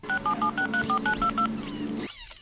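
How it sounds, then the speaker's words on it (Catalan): A telephone number is dialed with DTMF tones: about nine short, evenly spaced beeps in a quick sequence, clear and upfront, over a low background hum, with a brief electronic sweep at the end. "Truca i reserva el número 478 555 987."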